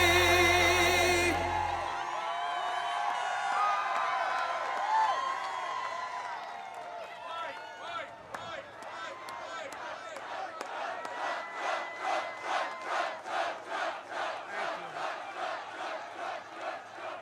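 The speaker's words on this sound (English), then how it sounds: "What a crowd this is." A large crowd at a Trump rally in Mosinee, Wisconsin roars in a sustained, loud wave that settles into rhythmic, pulsing chants and cheers, with some music at the very start.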